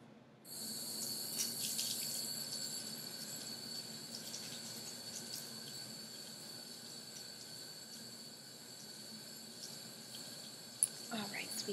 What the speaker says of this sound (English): We're going to let the warm water run over it